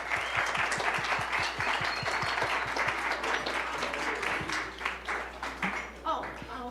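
A music cafe audience applauds with steady clapping that fades toward the end, while a voice talks over it.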